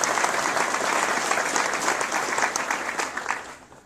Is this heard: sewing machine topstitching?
no